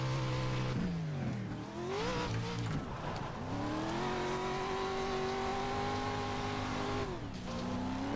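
An off-road truck in the iRacing video game revs hard, its engine pitch rising and dropping through shifts as the tires squeal and skid into a barrier, loud and continuous throughout.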